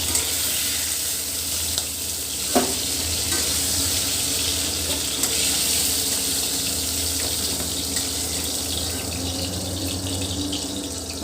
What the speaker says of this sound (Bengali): মাছের মাথাটা লাল করে ভেজে নিয়েছি